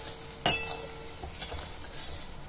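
Water poured into a pan of fried-down spice paste for a Bengali hilsa fish curry with eggplant, bursting into a sharp hiss that settles into a steady close sizzle with a faint clink of a utensil.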